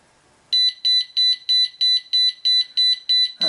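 An Arduino Uno alarm clock buzzer sounds a loud, steady series of about ten identical short electronic beeps in an even rhythm, close up and with no voices.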